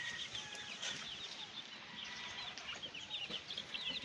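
Young gamecock chicks from fighting-cock bloodlines clucking and peeping, a continuous flock of thin high chirps, moderately near and fairly soft, with no talk.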